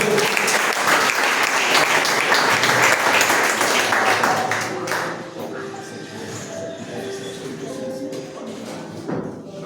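Loud, dense applause from a church congregation fills the first half, then fades away, leaving soft sustained tones and a few scattered claps.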